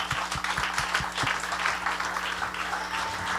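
Audience applause closing an evening fundraiser at the Celtic Junction, a steady mid-level patter of many hands with a few louder individual claps up front, continuing throughout.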